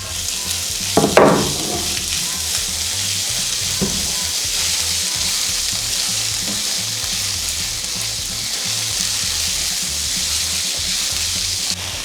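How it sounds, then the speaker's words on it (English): Potatoes and chopped onion frying in a pan for a vegan mushroom rice, a steady loud sizzle throughout with a few stirring scrapes near the start. "we just fry this potatoes, and now I'm gonna add my chopped onion inside it"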